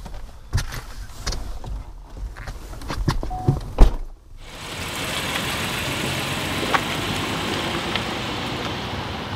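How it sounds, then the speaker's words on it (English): Car getting started as the driver sets off: a few door thunks and clunks from getting in, then the engine starts and settles into a steady, fairly loud running hum. "I'm gonna get in the car and see how far away I can get now"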